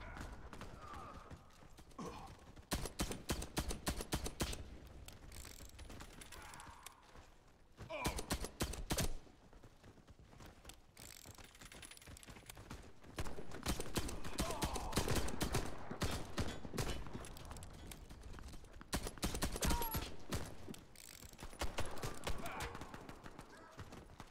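A suppressed Nagant M1895 revolver in a stealth shooter game fires in clusters of rapid, muffled pops, interspersed with clicks and mechanical handling noises and a quiet voice talking at times.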